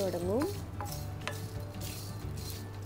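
A spice mix is stirred in a pan on the stove, giving soft scraping and light clinks against the metal, faint and intermittent over a low steady hum, with a brief voice at the start.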